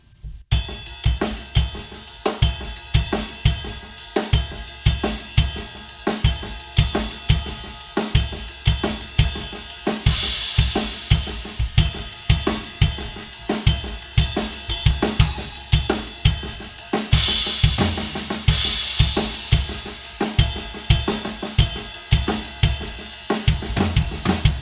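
Full drum kit playing a steady rock groove at full tempo, with regular kick and snare hits and dense cymbal wash building through the passage. Close, loud and continuous, with no talking.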